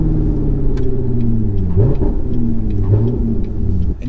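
A C7 Corvette with an AWE exhaust rumbles close by, its deep engine note rising and swelling as it revs to around 2600 RPM, loud and steady throughout.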